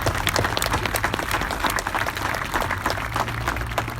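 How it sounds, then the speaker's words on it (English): A crowd at an outdoor Anchorage Memorial Day ceremony gives a round of applause for the Rolling Thunder riders and the Color Guard, dense steady clapping throughout with a faint low hum beneath. "Maybe we can start with another round of applause for Rolling Thunder and the Color Guard"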